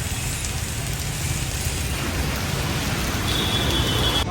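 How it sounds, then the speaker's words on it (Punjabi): Heavy rain pours down on a mountain trek route to Hemkund Sahib in a steady, dense hiss that holds at an even, loud level throughout, with no voices. "ਮੀਂਹ ਬੜਾ ਤੇਜ਼ ਪੈਣ ਦਿਆ ਵਾ"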